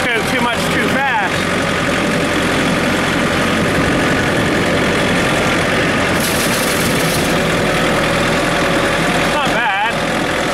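Tractor engine running steadily close by, a continuous low idling drone that persists throughout, with a voice briefly speaking over it.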